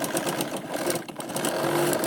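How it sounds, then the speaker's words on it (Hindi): A sewing machine stitches a katori blouse with a fast, continuous chattering whir, moderately close and fairly quiet, with brief uneven dips in the rhythm. "और इस तरह से देखिए हम सिलाई लगाएंगे।"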